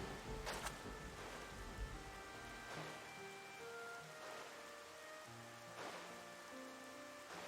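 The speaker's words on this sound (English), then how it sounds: "rain on the beach." Rain falling on a beach in the video game Xenoblade Chronicles, a soft continuous hiss of drops with a few sharper splashes and quiet game music tones underneath, faint and distant.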